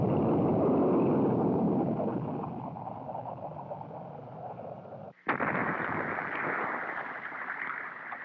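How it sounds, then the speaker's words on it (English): An early Minuteman missile test flight ends in an explosion heard as a loud, rumbling roar that fades, then a sharp crack followed by renewed blasting rumble, with no speech. "This early flight ended with an explosion that was visible for miles."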